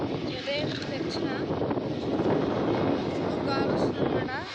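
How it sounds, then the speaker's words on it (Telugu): Wind buffets a microphone outdoors in a steady rumbling roar, with faint chirping sounds breaking through now and then. "గాలి వస్తుందన్నమాట"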